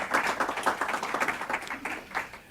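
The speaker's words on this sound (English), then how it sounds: "Applause for him" Applause from a seated audience at a Heartland Institute health care event, greeting a founding board member; a steady patter of many hands clapping, moderately loud, with no talking over it.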